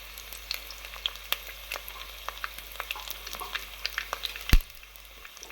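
About ten garlic cloves sauté in hot oil in a pan for a home-style fish curry, giving a steady close sizzle with scattered crackles and one sharp clink of a utensil near the end.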